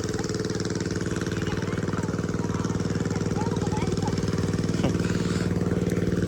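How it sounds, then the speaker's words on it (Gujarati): A motorcycle engine idles close by with a steady, rapid mechanical putter that stays even throughout, with a faint click near the end. "3 બાઇક છે એમાં એક બાઇક ચાલ્યું છે જો"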